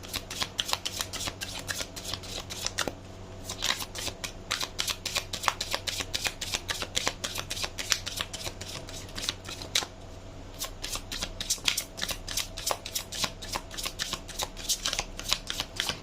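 Large, thin cards riffle and flick in rapid, crisp bursts, shuffled continuously at close range with dense papery snaps and brief pauses between runs.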